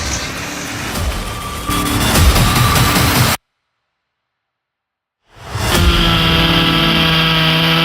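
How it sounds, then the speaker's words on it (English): Roaring chainsaws cutting wood in a forestry setting, a loud steady engine drone that cuts out to silence for about two seconds and then returns just as strong. "From roaring chainsaws to massive log haulers conquering tough terrain"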